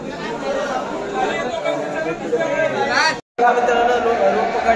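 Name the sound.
crowd of pilgrims chattering in Shirdi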